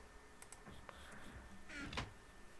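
Faint computer keyboard keys clacking in scattered bursts beneath a Minecraft Hunger Games play session, with soft irregular clicks and a denser flurry of typing near the end.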